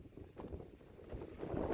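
Gusty wind on a mountain summit buffets the microphone in low, uneven rumbles, building stronger toward the end.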